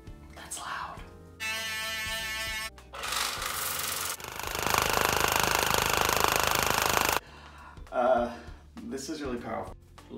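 A Waterpik Sonic-Fusion water flosser runs with a loud, steady buzzing hum, then a longer stretch of hissing, spraying noise for about three seconds before cutting off. A person talks briefly before and after it.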